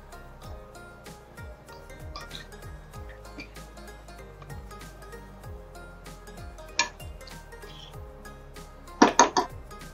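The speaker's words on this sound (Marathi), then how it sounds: "आता नीट ढवळायचं." Dry vegetable curry being stirred in a pot for a Malvani thali, with soft scraping and light clinks of a spoon against the metal, a few sharper clatters near the end, no voices.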